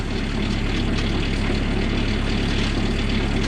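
A tractor engine runs steadily driving the PTO for a Wallenstein skidding winch, making a loud, close, continuous low rumble with a constant drone and no break.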